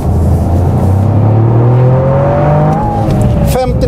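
Toyota GR Yaris driven hard on a race track, its engine loud and close, revving up and shifting through gears in rising and falling tones, with a voice heard briefly.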